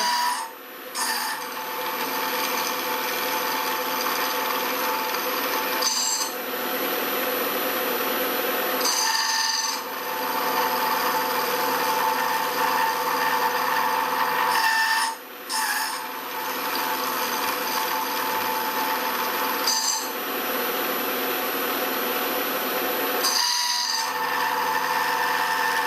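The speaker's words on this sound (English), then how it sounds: "Just doing the conventional mill here." A conventional milling machine runs steadily in a home workshop at night, a constant mechanical whir with a high whine and rasping cutting noise, broken by brief pauses and shifts every few seconds.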